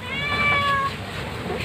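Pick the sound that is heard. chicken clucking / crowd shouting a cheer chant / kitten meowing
kitten meowing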